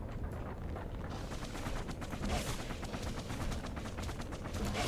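Gunfire in the game Bastion, a continuous rapid rattle of shots that sounds like machine-gun fire, loud and steady with no talking.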